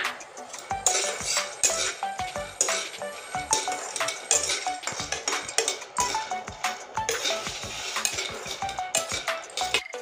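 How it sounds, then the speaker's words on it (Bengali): Almonds being fried and stirred in a hot frying pan, with repeated sharp clinking scrapes of a metal spatula against the pan in an irregular rhythm, close and fairly loud. "এবার দেখুন বাদামটা আমি ভেজে নিয়েছি একদম"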